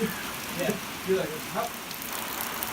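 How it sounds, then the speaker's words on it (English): Rain falling outdoors on a freezing cold day, a soft steady patter under faint voices and a few brief knocks, fairly quiet throughout. "It is freezing cold, and it just started raining."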